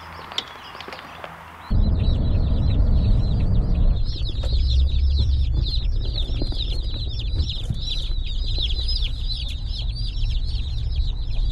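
Chicks peep and cheep continuously at close range after a short quiet opening, with dense high chirping over a low rumbling background and no talking.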